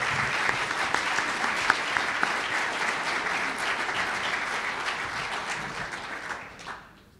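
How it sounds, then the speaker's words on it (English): Audience at a 2012 Salt Lake County mayoral debate giving the candidates a sustained round of applause, steady dense clapping that fades out near the end, with no talk over it. "let's give these gentlemen a round of applause"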